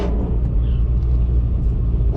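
Two 2024 Ford Mustangs, a Dark Horse and a GT, race with V8 engines rumbling loud and steady, a dense low drone that holds without a break.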